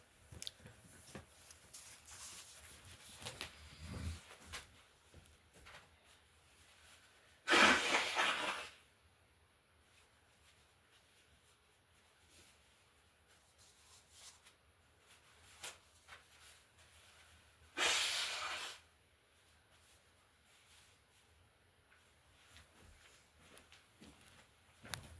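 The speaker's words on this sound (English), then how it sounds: "I'm going to have to blow my nose." Nose blowing into a tissue close by, two loud separate bursts about ten seconds apart with quiet rustling and handling noise between them.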